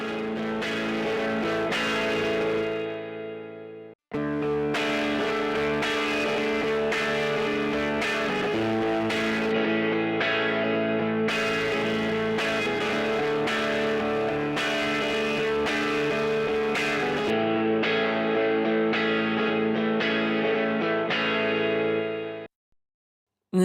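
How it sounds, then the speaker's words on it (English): Electric guitar loop driven through a V76 tube preamp into heavy distortion, a dense, saturated, sustained tone with rhythmic chord stabs, playing continuously and loud with a brief dropout near the start and an abrupt stop at the end. "And as we increase even further, there's heavy distortion affected onto the signal."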